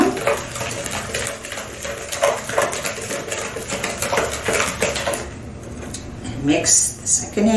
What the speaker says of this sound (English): we're going to add 1 egg and then beat